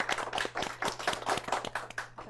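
Audience clapping at a Korean book forum as the author of a book on organizing is welcomed on stage, a short burst of moderately quiet, evenly paced claps from a small crowd.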